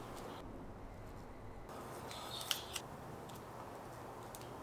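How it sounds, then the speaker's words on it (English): A knife slices through a cucumber hosomaki sushi roll on a board, a few quiet crisp cutting taps and two sharper clicks in the middle, faint and close against low background hiss. "The roll is first cut into halves and then into thirds."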